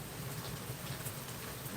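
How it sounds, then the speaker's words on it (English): Rain falls outdoors in Georgia in a breezy spell, a steady, even hiss of drops pattering on surfaces throughout, with no voices. "it's beautiful when it rains in Georgia"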